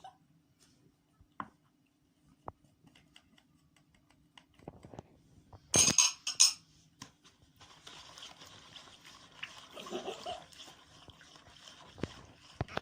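Sugar, cocoa and oil being whisked together in a bowl for a mosaic cake. It begins with a few scattered clicks and taps, then settles into steady, quick scraping and stirring up close, with no talking.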